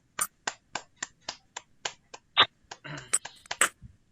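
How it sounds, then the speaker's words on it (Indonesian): A classroom group of people claps in short, sharp, separate bursts, about a dozen spaced hits over a few seconds, close and fairly loud, with a little murmur near the end. "Silakan kita aplaus dulu."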